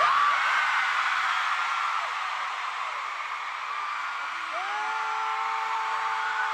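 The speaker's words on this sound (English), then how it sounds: "Let me hear you scream." A large concert crowd screams and cheers continuously in a dense, roaring wash of voices, with a few higher shrieks rising above the din.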